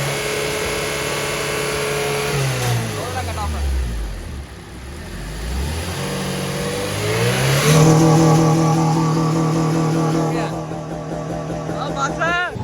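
A Honda K20 Type R engine revved repeatedly in a car, loud rising and falling sweeps with a dip to idle in between, climbing again to a sustained high-rpm howl; a voice talks over it.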